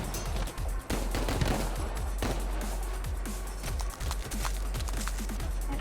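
Rapid automatic gunfire and repeated shots crackle densely throughout a chaotic Madness: Project Nexus fight, loud and continuous with sharp transient bursts.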